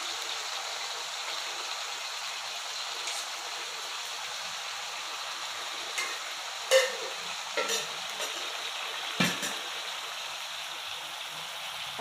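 Yogurt stirred into chicken frying in a pan, a soft steady sizzle with a few sharp spoon knocks and scrapes toward the end.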